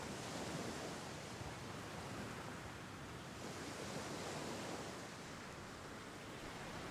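Surf washes steadily onto Paliton Beach on Siquijor in the Philippines, a continuous broadband roar with gentle swells and no clear breaks, steady and moderately loud with no voices.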